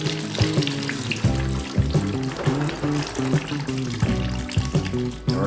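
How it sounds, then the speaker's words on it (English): Coolant drains from a KTM 450 EXC-F motorcycle engine, a close, continuous gurgling trickle and splatter of liquid with irregular bursts, heard alone without talk. "Now we're going to open up this water here, all the coolant,"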